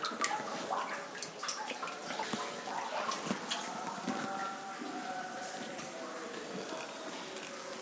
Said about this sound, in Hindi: यहाँ पे भी पानी लगातार फ्लो हो रहा है